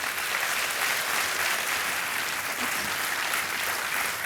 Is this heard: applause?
yes